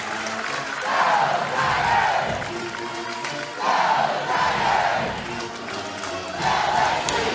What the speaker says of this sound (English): the crowd, how loud they are